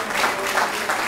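An audience at a Hellenic community association event in England gives a short burst of loud, dense applause for a welcomed guest.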